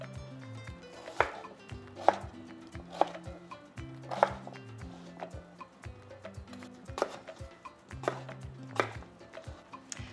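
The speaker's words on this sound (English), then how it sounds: "I'm just gonna chop all of the veggies into about inch and a half size cubes." Beets and other vegetables being chopped into inch-and-a-half cubes with a knife on a board for venison borscht: a close series of crisp, fairly regular chops with brief pauses, and no voices.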